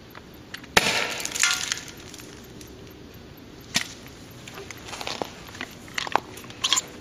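A King Arms M79 airsoft grenade launcher fires a BB shower shell. A sharp, close pop is followed by scattered clicks and patters, with further snappy pops and rattles later on.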